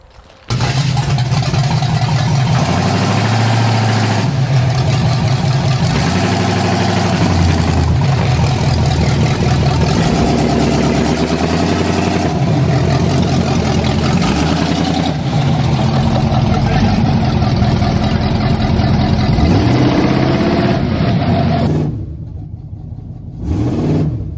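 An abandoned scrapyard car's engine revs hard and steadily against locked-up brakes, a loud, continuous strained drone rising and falling in pitch for about twenty seconds before dropping away briefly near the end.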